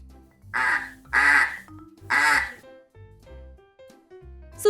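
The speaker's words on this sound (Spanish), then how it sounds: "Este es el sonido que hace un pato." A duck quacks in three loud, harsh bursts spaced about a second apart, each a short run of nasal calls, with quieter tonal children's-show music continuing underneath and between them.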